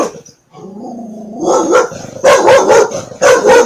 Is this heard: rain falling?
no